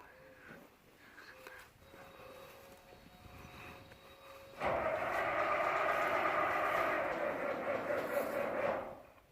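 A cold International 466 tractor starts: faint cranking clicks and a whirring starter, then the engine catches into a loud, steady, rough diesel roar that runs to the end.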